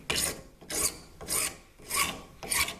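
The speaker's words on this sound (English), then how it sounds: "keep the file moving around the surface." Hand file rasping back and forth across a curved plastic keyring shape held low in a vise, five steady strokes at an even rhythm, close and clear with no talking.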